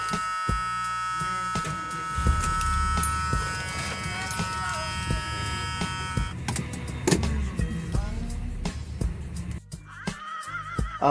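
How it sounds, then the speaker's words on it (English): An old 1970s–1990s Ford truck engine with hydroboost steering is cranked with the choke set. Close churning and clattering build until the motor catches and runs roughly, alongside a steady whining tone and a brief voice. "It's the first time cranking her up."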